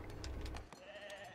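Sheep bleat on a sheep farm in the building game Foundation, with a single short, nearby bleat over quiet game ambience.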